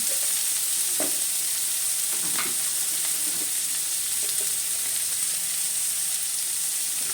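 Ground cumin and coriander frying in a pan while being stirred, a steady close sizzle broken by scraping and clinking of the spoon throughout, no voices.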